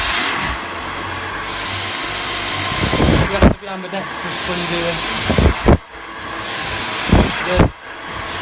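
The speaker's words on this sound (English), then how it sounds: "So let's just change that angle of the dryer." A handheld blow dryer roars steadily through a layered bob haircut on curly hair, loud and close with a broad whooshing airflow that briefly drops out as it is moved, while a hairdresser talks over it.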